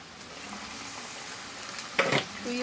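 Adobo sa asin frying in its own oil in a pan, with a steady soft sizzle throughout and a brief louder burst of crackling and stirring near the end.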